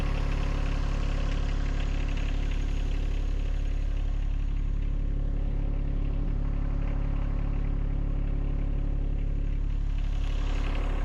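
A John Deere 1025R compact tractor runs in deep snow during a Colorado blizzard, its engine a steady, loud, low drone that holds unbroken throughout.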